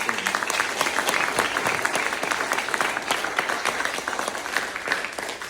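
A crowd at a campaign wrap-up gathering claps steadily for a candidate, the applause dense and sustained at moderate loudness with no voices over it.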